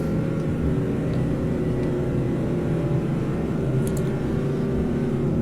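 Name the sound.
car engine running with an unusual sound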